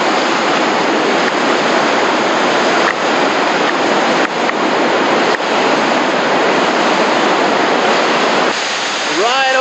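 A waterfall on the Nolichucky River near the North Carolina-Tennessee border, about a 10-foot drop into a pool, heard as a loud, steady, close rush of falling water that fills the whole stretch.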